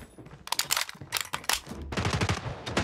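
PP-19 Bizon submachine gun firing in Call of Duty Mobile: several loud, rapid bursts of automatic fire with short pauses between them, close and sharp.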